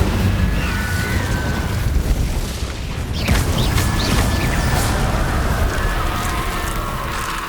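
Incendio fire spell cast in Hogwarts Legacy, a loud whooshing burst of flame midway through over ongoing combat rumble and crackle, with a brief sharp pop just before it.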